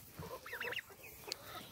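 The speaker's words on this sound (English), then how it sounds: "Oh, there's another rooster right there." Poultry calls on a homestead with a rooster and chickens around, a short squawking cluck in the middle of the clip, fairly near but not loud, over outdoor background noise.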